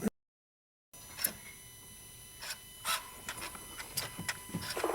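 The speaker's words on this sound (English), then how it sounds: "Dual mass flywheel rattles a little bit as it shuts down." A common-rail TDI diesel engine shuts off with a loose, irregular metallic rattling from the dual mass flywheel over a steady background, after a brief dropout at the start.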